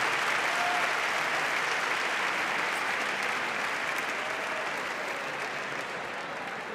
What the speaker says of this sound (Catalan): Un fort, molt fort aplaudiment per tots aquests enginyers en matemàtica, en ciència de dades.